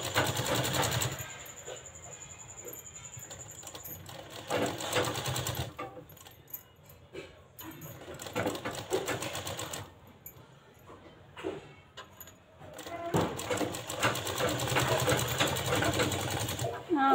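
Sewing machine stitching a blouse side strip to the bust cup, running in several bursts of fast mechanical whirring separated by pauses, close and fairly loud, with a voice talking in between.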